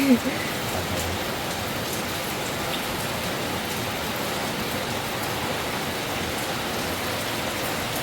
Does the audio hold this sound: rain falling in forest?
yes